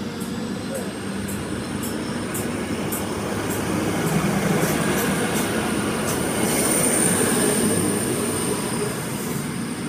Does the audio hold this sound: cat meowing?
no